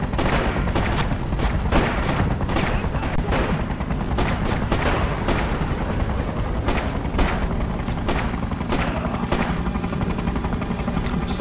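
Gunfire in the GameCube game Freedom Fighters: a dense, continuous battle of rapid shots and machine-gun bursts with booming impacts over a constant roaring drone, loud and close throughout.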